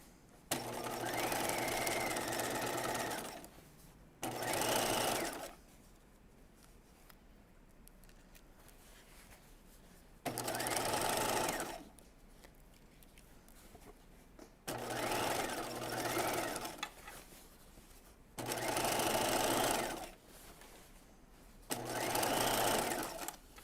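Sewing machine stitching jeans fabric with the presser foot edge as guide, running in six separate bursts of steady whirring stitching, each a second or two long, with quiet pauses between.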